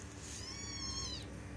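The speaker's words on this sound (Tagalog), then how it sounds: "Miu Miu, come! Gusto ko siyang pakainin ng masarap" A cat gives a single drawn-out meow at close range, high and rising then falling, over a steady background hum, with no speech.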